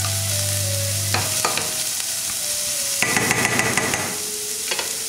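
Diced zucchini fries in a pan with a loud, steady sizzle, with spoon scrapes and clatter at intervals and a busier burst of stirring in the middle; a low hum drops away early on.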